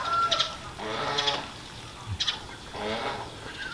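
Hens clucking in short bursts, several calls spaced a second or so apart, close by against a faint outdoor background.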